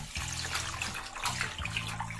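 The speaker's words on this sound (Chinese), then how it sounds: "我们先把鱼骨加盐给它清洗一下，去除它的腥味" Fish bones being rinsed with salt in running water in a home kitchen, a steady splashing and trickling wash with irregular handling sounds, fairly close, with no talk.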